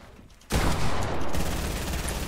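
Gunfire in a shooter video game: a sudden loud burst of rapid shots that carries on as dense, continuous firing, with little talk heard over it.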